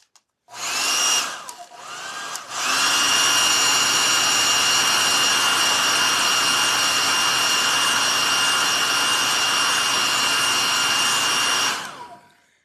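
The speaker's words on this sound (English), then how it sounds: "So let me get the hair dryer going here." A hair dryer starts, sputters briefly, then roars steadily at close range with a high whine for about ten seconds before switching off.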